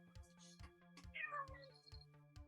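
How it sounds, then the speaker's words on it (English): A grumpy black cat meows once at close range, a rising then falling cry over a steady background hum and a few soft knocks. "It's our grumpy black cat."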